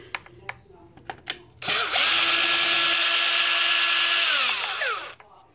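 A power drill backs out screws on a Traxxas X-Maxx RC car, first with a few short taps, then a long steady high-pitched whir for about three seconds before winding down, loud and close.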